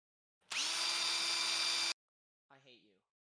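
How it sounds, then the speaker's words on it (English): A power drill whirs at a steady high pitch for about a second and a half during a podcast recording, then cuts off abruptly, followed by a brief voice. "Put the fucking drill away."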